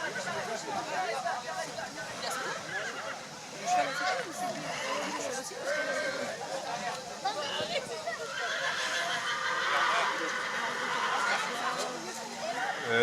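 A horse whinnies amid crowd chatter at a horseball match after the horse jumped the side barrier, with hoof clatter and a babble of voices around it.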